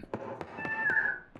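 A cat in a horror video game gives a single drawn-out meow over a faint background with soft clicks, short and fairly quiet.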